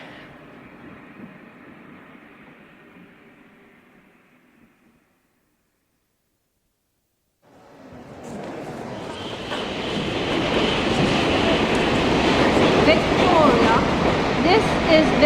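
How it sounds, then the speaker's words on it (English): Boat train from Dover pulling into a station platform: a quiet, fading rumble drops away to near silence, then a loud, broad roar of the arriving train builds and fills the rest of the scene. "The train arriving at platform 5 is the boat train from Dover."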